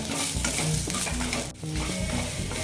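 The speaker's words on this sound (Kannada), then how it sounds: "ಈ ಕಾಳು ಮೆಣಸು, ಜೀರಿಗೆ, ಧನಿಯಾ ಎಲ್ಲ ಒಟ್ಟಿಗೆ ಹಾಕ್ತಾ ಇದ್ದೀನಿ. ಮೆಣಸಿನ್ಕಾಯಿ ಚೆನ್ನಾಗಿ ಹುರ್ಕೋಬೇಕಿದು." Peppercorns, cumin, coriander and dried chillies dry-roasting in a pan for idli sambar, stirred with a steady gritty scraping and light sizzle, close and continuous with no talk.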